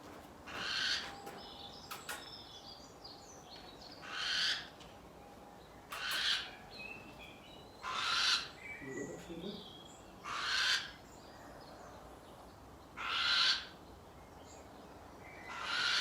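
Burrowing owls calling outdoors among grasses, a series of short, fairly faint calls repeating every couple of seconds over quiet background noise.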